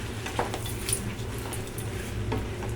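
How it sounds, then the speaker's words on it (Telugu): Veg fried rice sizzles and is stirred in a pan after a packet of fried rice masala mix is added, with a steady frying hiss and soft spatula scrapes and clinks close by. "దాన్ని కూడా వేసి ఫ్రై చేసుకోవాలి"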